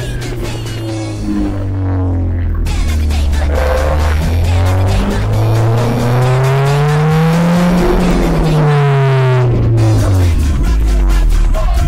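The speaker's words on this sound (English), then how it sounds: "now we'll squeal with tires" Car tires squeal loudly and steadily in a long, pitch-shifting howl that rises and falls over engine noise for nearly twelve seconds, close and continuous at a car and motorcycle showcase.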